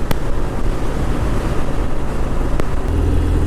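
A 2018 Harley-Davidson Softail Fat Bob motorcycle being ridden, with steady engine drone and heavy wind rush on the microphone throughout, plus a couple of brief sharp clicks.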